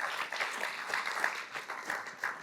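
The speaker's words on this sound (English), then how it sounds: "let's give them a round of applause" Audience applause at a district governor pin-passing event, moderate clapping from a group with uneven, pulsing intensity that stays fairly quiet and steady.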